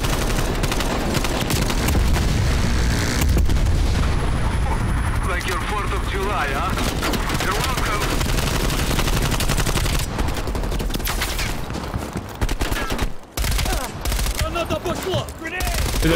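Sustained automatic gunfire roars through a firefight in Call of Duty Black Ops Cold War, loud and dense with rapid bursts and a helicopter's drone beneath, easing into sparser shots and dropouts near the end with voices mixed in.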